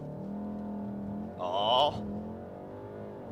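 A Volkswagen Golf R Mk7 with an Integrated Engineering Stage 1 tune launches hard, its engine holding a steady, loud droning note from inside the cabin while a voice briefly exclaims midway.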